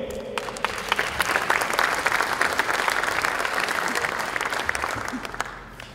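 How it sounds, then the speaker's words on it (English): An audience at a business conference hall applauds the companies WJG, VHA and Novation, a full, sustained round of clapping that swells quickly and holds steady before tapering off at the end. "Give WJG, VHA, and Novation a round of applause for failing"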